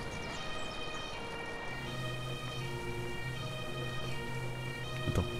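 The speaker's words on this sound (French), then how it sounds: "L'ambulance emmène la victime à l'hôpital de la base." An ambulance siren wails in the Emergency 5 video game during a flood mission west of Hamburg, a steady, moderately loud tone held throughout over a busy ambient bed of other game sounds.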